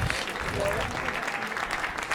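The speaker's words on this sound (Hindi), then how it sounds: "तालियां जेनी जी के लिए, कम ऑन।" A panel audience claps for Jenny on a comedy show, a steady, moderately loud patter of many hands that holds throughout with no break.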